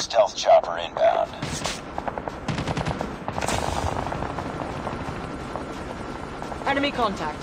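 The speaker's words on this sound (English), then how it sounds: "Stealth chopper inbound." A stealth chopper helicopter in Call of Duty Mobile, Summit map, whirs through the mix alongside loud bursts of automatic gunfire, with game voice callouts over the action.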